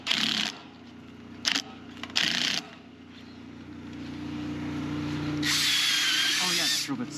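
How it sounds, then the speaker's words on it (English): A drill drives screws into a Quonset hut wall in several short, loud whirring bursts, followed by a longer sustained run near the end, close by, with low background hum in between. "Oh yeah, that drill bit's so nice."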